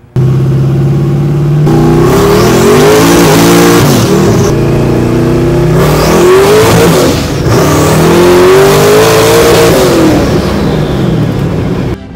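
A 1969 Camaro hot rod engine revs hard and loud without a break, its pitch climbing and falling through several throttle blips, close to the listener with no voices.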